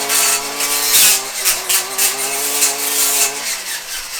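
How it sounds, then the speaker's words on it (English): A lawn edger runs with a loud, buzzing engine tone that rises and falls in short surges over a few seconds, close up and with no talking. "First up is our edger."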